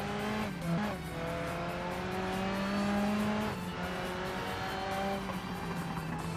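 An Elfin T5 race car in a racing sim holds a steady, droning engine note close by. The pitch dips and recovers around shifts, and faint tire noise sits underneath. No one talks.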